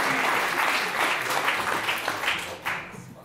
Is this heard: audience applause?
yes